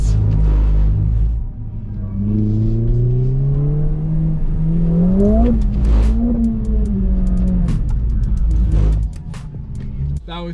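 A 2021 Mercedes-AMG GT R Pro drifting on a track, its engine revving up and easing off in long rising and falling sweeps, loud and close, then dropping away with a few tire and cabin sounds.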